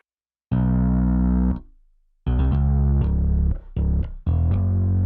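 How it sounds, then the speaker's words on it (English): Deep synth bass from a Trillion instrument with added grit, playing a few sustained and short notes with gaps between them, close and alone. "For the bass, I'm using Trillion."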